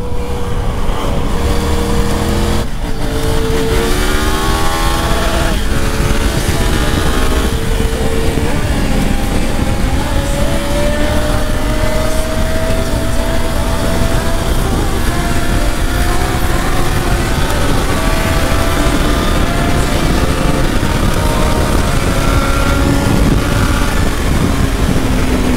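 Engine whine rises and falls through the gears as a motorcycle rides at speed with traction control and ABS switched off, under constant heavy wind roar.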